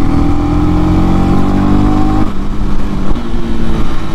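A Honda CB300R motorcycle engine revs with a steady mid-pitched drone, then its tone shifts abruptly partway through as it blips the throttle on a downshift, loud and close with no talking.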